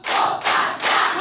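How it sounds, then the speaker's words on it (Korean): An audience at a community-centre singing class claps in unison three times, three sharp, loud, evenly spaced group claps in quick succession. "박수 세 번 시작."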